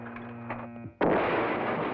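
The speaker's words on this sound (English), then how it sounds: "they are caught in the blast of another explosion within the doomed ship" Animated 1966 Marvel Superheroes Captain America episode: an explosion erupts inside a doomed, sinking ship. Tonal cartoon music plays, then a sudden loud blast hits midway and sustains as a dense, roaring rumble to the end.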